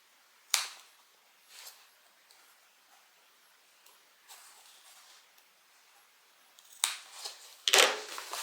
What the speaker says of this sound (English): I'm going to take my good sharp scissors, and I don't really need to cut triangles here. I just need to put snips.